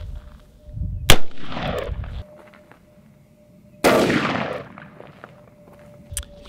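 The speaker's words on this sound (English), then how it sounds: "So this is your standard 250 grain Hornady XTP 454 Kazool, fired out of the Ruger Alaskan." A 454 Casull revolver, a Ruger Alaskan loaded with 250 grain Hornady XTP rounds, fires outdoors at a steel plate. Two sharp, loud reports sound a few seconds apart, each followed by a brief ringing decay.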